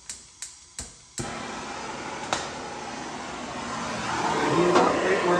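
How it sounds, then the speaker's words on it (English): A MAP gas torch heats sheet metal on a tube-chassis firewall for a second-generation Dodge Ram. Several sharp clicks are followed by a close, steady roaring hiss that grows slightly louder. "we got map gas torch."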